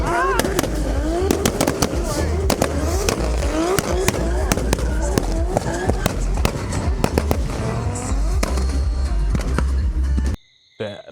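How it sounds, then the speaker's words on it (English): Rapid, loud bangs and crackles from a modified car exhaust tuned to pop like a bazooka at a Trinidad car meet, firing in dense irregular bursts with voices talking underneath, then cutting off abruptly near the end. "The explosions on that thing"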